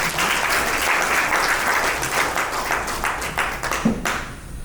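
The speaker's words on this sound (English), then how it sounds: "Please give yourself a round of applause." Applause from an audience at a Lagos State Schools of Nursing alumni anniversary gala, sustained clapping that thins out toward the end with a few scattered claps.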